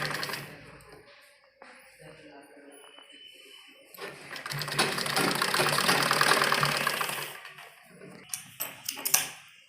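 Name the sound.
sewing machine stitching a baby frock seam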